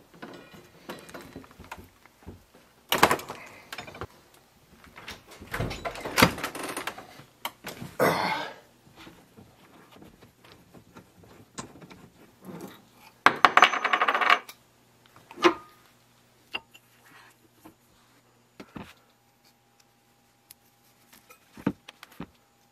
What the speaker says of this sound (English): I'm gonna rip my vise off of there.